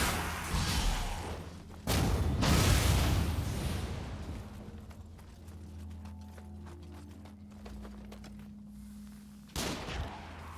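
Ranged-weapon gunfire in the action game Nioh 2: two loud, sharp shot bursts, one near the start and one near the end, with quieter in-game ambience and rustling in between.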